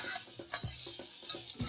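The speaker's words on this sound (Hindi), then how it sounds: "अब हम लेंगे आधा चम्मच तेल और इसमें हम डाल रहे हैं 1 बारीक कटा हुआ प्याज" Finely chopped onion fries in half a spoon of oil, giving a soft close sizzle with a few rhythmic scrapes and taps of a spoon against the pan, with no speech.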